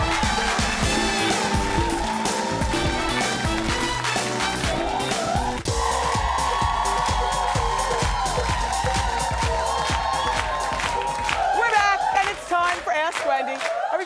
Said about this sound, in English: David Arquette, clap it up for him